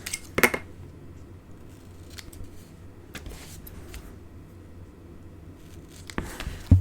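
Scissors snip through cardstock in a few crisp, close cuts with quiet paper rustling between them, and no voices.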